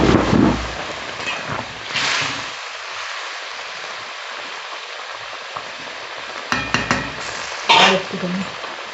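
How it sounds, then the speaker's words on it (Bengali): Spice mix for Bengali shukto hits hot oil with a steady sizzling hiss that fades to a softer fry, punctuated by a few sharper crackles and stirring clatters nearby. "আমি তেলের ওপর হাফ মশলা দিয়ে ঢেলে দিলাম"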